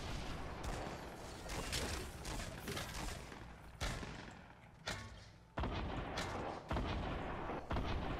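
Gunfire in the video game Fortnite: dense, rapid shots and bursts overlap in a steady barrage, broken by a few sudden louder cracks near the end, with no clear talk.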